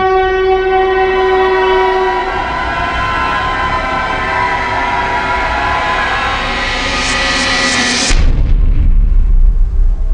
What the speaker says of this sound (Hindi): तभी एक बहुत ही तेज आवाज में ट्रेन उसकी तरफ बढ़ती आई।